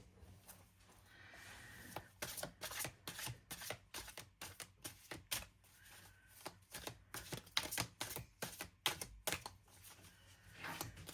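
Rapid riffling and snapping of playing cards being shuffled, several bursts in quick succession, close and crisp with no talking.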